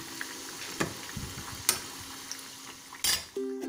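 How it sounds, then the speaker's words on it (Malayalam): Shoe pastry fries in oil over a medium flame with a steady soft sizzle, broken by a few light clicks and clatters of a utensil against the pan. "ഒരു മീഡിയം ഫ്ലെയിമിലിട്ടിട്ടാണ് ഞാനിത് വറുത്തെടുക്കണത്"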